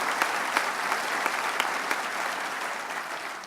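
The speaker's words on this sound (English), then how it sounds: "give them a round of applause." A round of applause from an audience at a government economic development announcement, broad steady clapping with a few sharper claps standing out, easing slightly toward the end.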